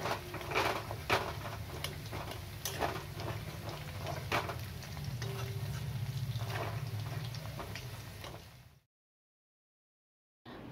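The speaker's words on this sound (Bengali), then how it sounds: "আর খুন্তির সাহায্যে এইভাবে নাড়তে হবে, নাহলে কিন্তু বাদামগুলো একটার সঙ্গে আরেকটা লেগে যাবে" Masala peanuts fry in a pan and are stirred with a spatula over a low-to-medium flame, giving a steady close sizzle with irregular scraping clicks and taps before the sound cuts to silence.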